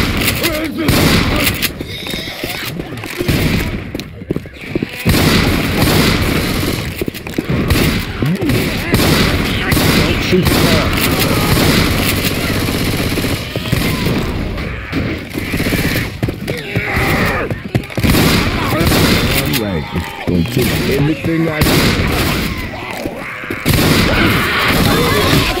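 Frantic Left 4 Dead 2 expert-difficulty co-op match with dense, continuous game gunfire and bursts layered over loud, busy action noise and players shouting throughout.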